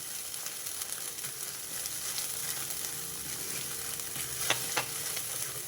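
Masala paste of tomatoes and onions fries in oil with a continuous close crackle and hiss, plus a couple of brief stirring clicks near the end, and no voices.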